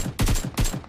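Rapid bursts of gunfire in the mobile battle royale game PUBG Mobile during an esports match, loud and close, with three clusters of repeated shots separated by brief gaps.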